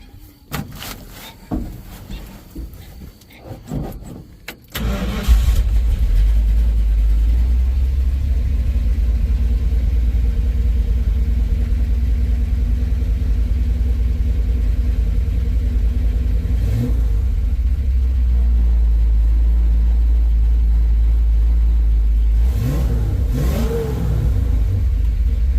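A car engine fitted with an Edelbrock AVS2 carburetor cranks after a few clunks and settles into a strong, steady rumbling run close by, with brief blips of revving later on.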